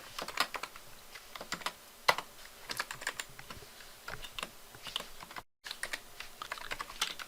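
Fingers type on a computer keyboard while writing code, a steady scatter of close, crisp key clicks with uneven rhythm and a brief gap near the end.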